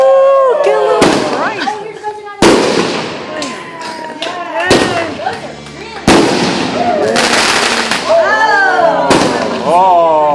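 Repeated Fourth of July fireworks bursts crack and boom close by, with whistling streaks between blasts and excited voices talking and exclaiming over the noise.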